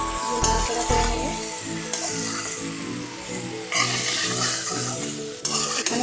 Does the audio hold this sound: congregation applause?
no